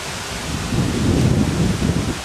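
Wind and rain outdoors, a steady broadband wash with a low rumble that swells through the middle and stays loud and close throughout.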